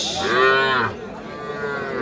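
A heifer calf at Ambari cattle market lets out one loud, drawn-out moo close by during the first second, followed by quieter market background.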